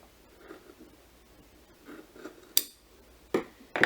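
Scissors snip through fabric for a peplum skirt, a handful of faint, quiet cuts followed by a few sharper clicks near the end, with no talking.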